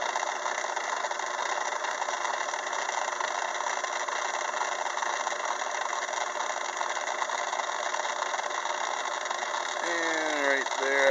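Steady machine drone of a milling machine under power feed, cutting a 64-tooth gear with a gear-cutting attachment, continuous and fairly loud throughout, with a rising whine at the very end as the feed is stopped.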